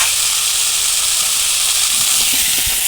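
Cauliflower fries in a hot pan with a loud, steady hiss of sizzling, and a few soft knocks of stirring come near the end.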